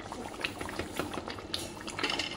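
Water boils in a cooking pot with a steady, dense bubbling and soft popping that continues evenly throughout at moderate volume.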